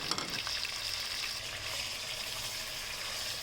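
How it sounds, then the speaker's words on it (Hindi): Chicken pieces frying in hot oil, a steady close hiss and crackle, moderately loud and unbroken, with a brief louder spatter at the start. "चिकन का कलर चेंज होने तक अच्छी तरह से फ्राई कर लेंगे"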